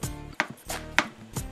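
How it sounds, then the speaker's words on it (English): A kitchen knife chops squash on a cutting board in four sharp, evenly spaced strikes, each a close, crisp thud of blade meeting board, with no speech. "I'm gonna chop the rest of these up."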